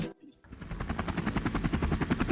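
Rapid rhythmic chop of a helicopter passing overhead, its blade thumps steady and fairly loud after a brief quiet moment, with no voices over it.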